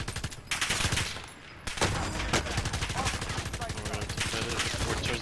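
Rapid automatic gunfire from Call of Duty: Modern Warfare, a dense, continuous rattle of shots with a brief pause early on, loud and close.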